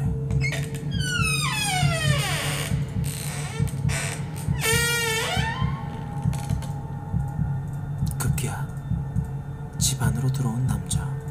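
A door creaks open in a few drawn-out, squeaky sweeps, with a low steady hum underneath and a voice speaking over the top.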